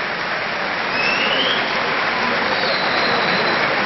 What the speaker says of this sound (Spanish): El aplauso para el pupilo de Johnny Sosa, Roberto Moreno